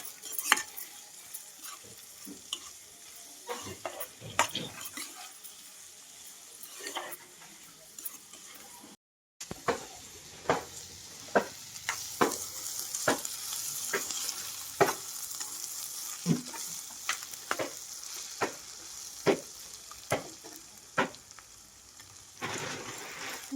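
Onions and green chillies fry for a drumstick curry while being stirred, with a soft continuous sizzle punctuated by frequent sharp spoon scrapes and taps against the pan.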